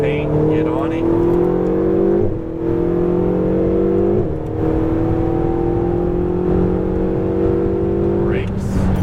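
A Ferrari 488 GTB on a racetrack drives out of a corner, its engine rising in pitch through repeated gear climbs, loud and close, with a steady whine under an instructor's voice.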